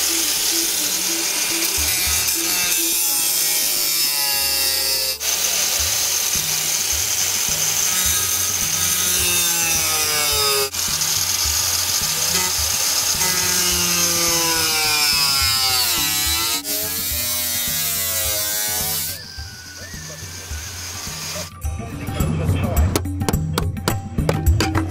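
Power drill boring mounting holes through a van's metal floor to fit an Eberspacher D2 heater, with loud repeated whining bursts that rise and fall in pitch, ending with clattering handling noises.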